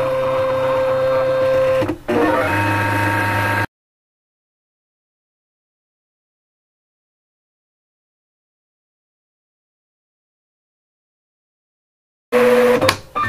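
An eCraft cutting machine pulls paper from its tray and starts up, a motor whirring steadily with a brief clunk, then silence, then the mechanism whirs again at the end.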